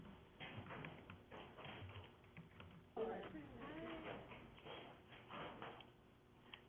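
Light tapping on a small computer keyboard, soft irregular clicks close by, with a voice talking over part of it.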